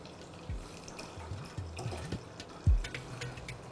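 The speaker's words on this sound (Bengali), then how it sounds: "ফ্লেমটাকে লো করে এবার আপনারা দুধটাকে অ্যাড করে দিন।" Milk poured into boiling tea on a stove at low flame, heard as faint liquid splashes and drips over a soft background bubbling, close by.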